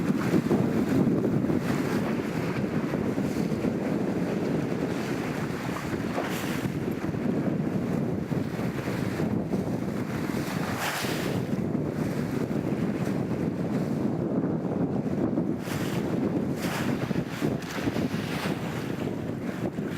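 A replica 6th-century BC Greco-Massalian sailing boat runs under sail in strong wind, with constant loud wind buffeting and rushing water noise roaring steadily throughout, no voices.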